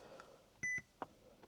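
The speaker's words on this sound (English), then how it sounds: "Nice beep." A short, clear electronic beep from a car stereo unit with CarPlay stands out once from a quiet background, followed by a soft click.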